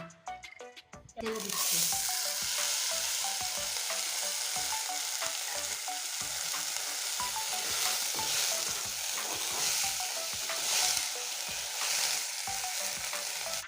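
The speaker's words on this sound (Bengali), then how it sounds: "এবার ভেজে নেব এই অঙ্কুর বেরোনো মুসুর ডালটা" Sprouted masoor lentils drop into hot oil in a pan and then fry with a loud, steady crackling sizzle and frequent stirring scrapes. A brief quiet handling moment comes first.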